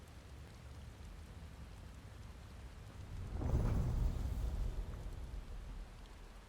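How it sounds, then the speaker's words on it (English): Steady video-game rain in a fantasy world, soft and continuous, with a deep rumble of thunder swelling midway and then fading back into the downpour. "I guess that's why it's raining."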